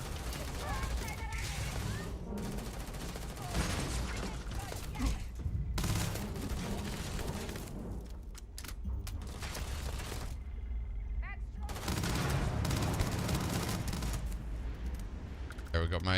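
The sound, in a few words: grenade and gunfire in Starfield video game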